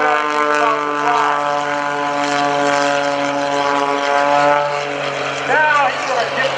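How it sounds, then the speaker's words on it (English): Aerobatic propeller airplane with a 400-horsepower engine at a naval air station airshow, a loud steady droning buzz that holds level then briefly shifts pitch as the plane maneuvers. "That airplane isn't using its wings right now. It's using raw horsepower, 400 horsepower, and the fuselage for lift."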